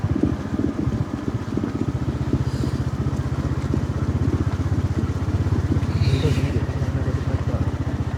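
Motorcycle engine running steadily as the bike rides downhill toward a river, with a low continuous throb, some rattling over rough ground, and a voice talking over it.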